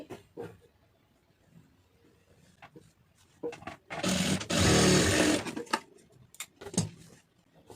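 A sewing machine stitches a plain blouse in one loud, steady run of about two seconds, framed by quieter clicks and handling noises before and after.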